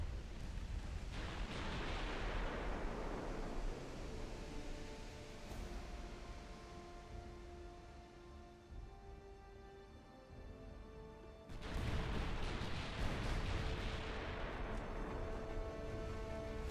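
Torpedoes in the naval video game Ultimate Admiral Dreadnoughts produce broad, rumbling bursts of noise, one swelling early and a second loud surge near the end, with a quieter hissing stretch between them.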